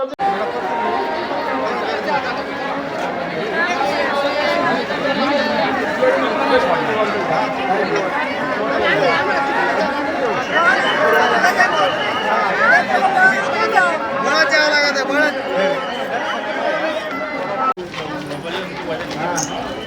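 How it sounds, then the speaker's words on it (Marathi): A dense crowd gathers before the main gate of the Sant Dnyaneshwar Maharaj samadhi temple during the Sanjeevan Samadhi festival by the Indrayani, a constant loud babble of many voices with footsteps and shuffling throughout. "चला पुढे चालत राहा चला महाद्वाराच्या समोरची गर्दी कृपा करून"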